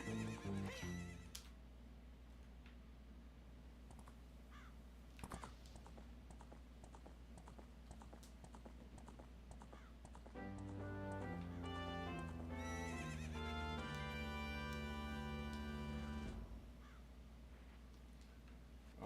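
Epona the horse neighing in the game Ocarina of Time 3D, whinnies and hoof clip-clop set against bright melodic game tones, fairly loud, with no one speaking.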